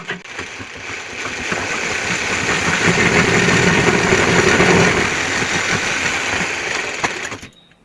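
A sewing machine runs steadily, stitching pieces of a semi-Patiala salwar together in one loud, continuous mechanical whir that settles into a constant drone, then stops abruptly near the end.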